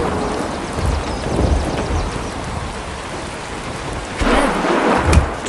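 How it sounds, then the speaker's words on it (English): Heavy rain pours steadily while deep thunder rumbles underneath, swelling into a louder roll toward the end. "Thunderstorms are electrical storms with thunder,"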